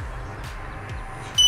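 Short electronic startup tones from an Ehang Ghostdrone 2.0 VR headset, a few faint beeps and then a brighter two-tone chime near the end, set against steady low background hum.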